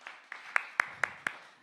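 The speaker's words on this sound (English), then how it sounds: "Big round of applause" A small audience at a poetry evening claps for a poet, a thin handful of claps spaced roughly evenly, six distinct sharp hits close by and fading.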